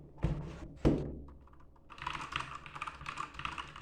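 Two heavy thunks followed by a rapid run of crisp keystrokes on a Keychron C2 mechanical keyboard, close and fairly quiet with no voices.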